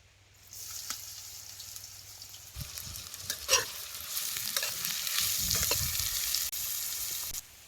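Finely chopped onion hitting hot oil with cumin seeds in a home kitchen pan, starting with a soft hiss and then a loud, steady sizzle broken by stirring scrapes, heard close up with no talking.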